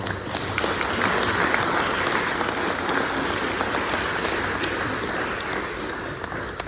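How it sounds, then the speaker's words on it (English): Crowd applause for a family at a joint city commission gathering in Coral Springs and Parkland, steady heavy clapping that swells early and carries on evenly, rain-like in texture, with no talk. "Let's give the family a little round of applause."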